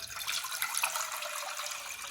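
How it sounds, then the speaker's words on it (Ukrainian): Tap water running steadily into a saucepan as one litre is measured out for a fish brine, a continuous close hiss of flowing water with no speech. "наберемо в каструльку 1 літр води"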